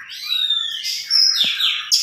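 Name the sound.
oriental magpie-robin (kacer) singing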